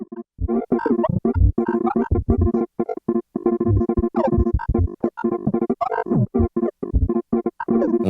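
Guitar sound from an Onward glitch pedal with all its error modes blended, played as choppy, stuttering bursts of chopped and repeated notes that jump and skip without pause at moderate volume.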